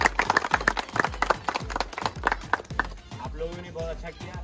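Children and audience at a Children's Day event at Quantum University clap in a brisk irregular patter, fairly close, while a voice speaks and then sings over the last part.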